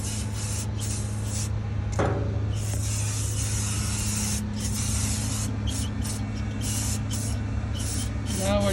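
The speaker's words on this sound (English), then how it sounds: "Now we're just putting the bed liner, spray in there, shine it up." Spray-on bed liner coating hisses steadily into a tool box, a continuous loud aerosol rush with brief pauses and small shifts in tone.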